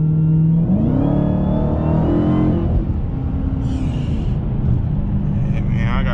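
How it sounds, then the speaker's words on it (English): Inside a Dodge Challenger Hellcat Redeye while driving, the engine rumbles and revs steadily with a rising supercharger whine, loud and close, while someone talks over it. "But y'all hear the whine, man. Whine is pretty crazy."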